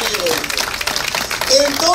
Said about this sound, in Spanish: Denle un aplauso fuerte al Rey, hombre.